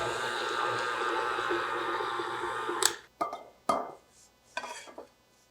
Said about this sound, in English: We'll give it one more mix.